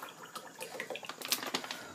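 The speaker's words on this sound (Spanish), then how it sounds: "Lo primero que vamos a hacer es echar nuestra agua." Water poured into a mixing bowl while making mashed potatoes, a soft splashing, trickling stream heard close and alone for about two seconds, rising slightly toward the end.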